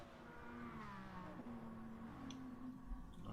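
Racing cars in a street racing video game head out on their outlap, with a faint, steady engine drone and a gentle rise in revs, quiet and distant.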